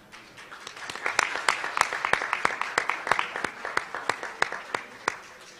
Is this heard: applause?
yes